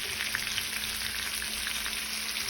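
Honey garlic glazed salmon fillets frying in a pan, a steady close sizzle and crackle of hot oil throughout with no speech.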